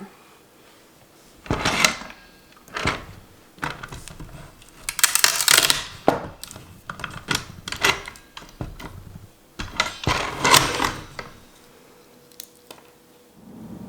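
Black walnuts are cracked open by hand in a series of sharp, close cracks and crunches in irregular clusters, with quiet pauses between them.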